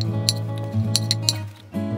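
A kitchen knife cutting potatoes into big chunks on a board for Japanese curry rice: a handful of sharp, close taps spaced irregularly over a low steady hum.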